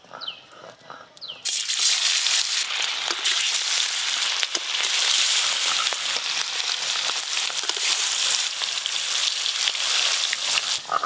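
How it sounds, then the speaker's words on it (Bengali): Fish drops into hot mustard oil in a pan and a loud, dense sizzle bursts up and holds steady, crackling close to the microphone for several seconds without any speech. "মাছগুলো ভেজে নেব।"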